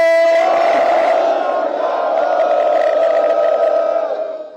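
A large crowd at a Sikh political rally roars a long, unified "Sat Sri Akal" response to the "Bole So Nihal" slogan, loud and sustained before fading out.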